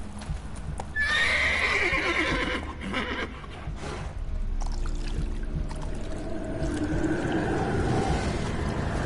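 Horse in The Witcher 3 video game gives a loud whinny near the start, with hoof clip-clops and shuffling throughout and a softer snort or neigh later.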